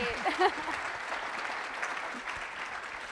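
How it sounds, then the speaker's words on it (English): An audience at the opening of a game UX summit claps in a steady wash of applause, moderately distant and even throughout, with a brief cheer near the start. "please give them a round of applause for organizing the"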